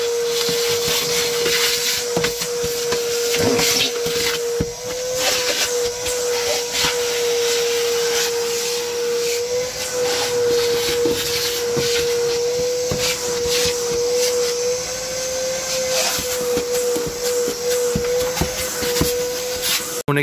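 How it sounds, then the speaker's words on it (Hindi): A vacuum cleaner works through a car interior with a steady, close, whining drone that barely changes for the whole stretch, with scattered bumps and scrapes of the nozzle and no talking. "वैक्यूम कर रहे हैं पूरी।"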